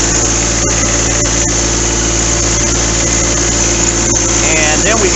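The turbo diesel engine of a 5-ton truck idles close by, a loud, steady, unbroken rumble that holds at an even level throughout.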